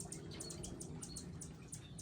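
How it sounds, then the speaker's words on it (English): Hummingbirds at nearly empty feeders in a fall garden give rapid, repeated high squeaky chirps in quick bursts throughout, fairly faint against steady outdoor background noise. "It's the hummingbirds screaming at me."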